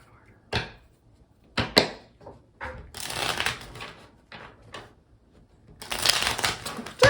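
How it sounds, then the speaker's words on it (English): A deck of cards is shuffled several times, crisp riffling bursts separated by short pauses and soft handling noises, close up. "They get fussy, like they don't want to be shuffled in a certain direction."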